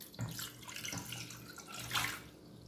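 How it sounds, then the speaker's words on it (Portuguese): Water is poured into a pan to make candy apple syrup with sugar and vinegar, a close, moderate splashing pour with a few louder gushes and no talking. "Vou adicionar aqui agora a água."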